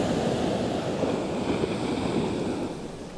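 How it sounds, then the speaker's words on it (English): Ocean swell rolling in as surf on a beach during a fishing session, a broad, steady roar of breaking water mixed with gusting wind on the microphone, loud and continuous, with no voices heard. "See what I mean about the swell?"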